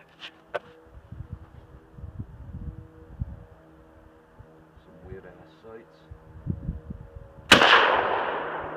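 Mosin Nagant 91/30 Russian 7.62 mm bolt-action rifle fired once, a sharp loud blast near the end with a trailing roar, after quiet handling clicks and thumps.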